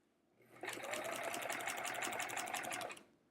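A sewing machine stitches a small practice quilt with metallic thread, running steadily for a couple of seconds with a fast, even needle rhythm, close and fairly clear, then stopping.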